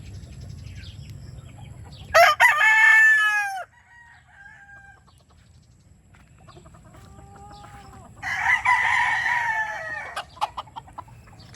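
A 'sweater' breeder gamefowl fighting rooster gives two loud, close crows several seconds apart, with quiet clucks and a soft low background between them.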